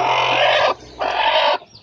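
A brooding hen sitting on a clutch of eggs in a natural setup makes two loud, close, raspy bursts of about three-quarters and half a second, separated by a short pause, with no talk.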